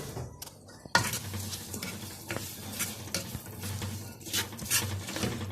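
Sliced onions sizzle in a pot of melted fat and a little oil. After a quiet opening, a loud burst of frying hiss starts, then continues under scraping stirs and occasional clinks of a spoon against the pot.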